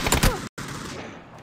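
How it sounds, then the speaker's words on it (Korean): Burst of rapid gunfire in an online shooter match, several quick loud shots at the start, then a brief dropout and lingering echoing battle noise fading off. "그리고 4번 집 총소리 들린다"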